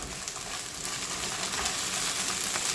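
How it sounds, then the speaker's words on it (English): Steady, close sizzling of garlic and ginger paste frying in a hot pan, a continuous hiss and crackle with no talking. "I hope you can hear me over this sizzling"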